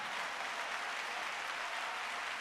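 Congregation applauding at a church service, a dense, steady wash of clapping that holds evenly at full strength throughout with no pauses.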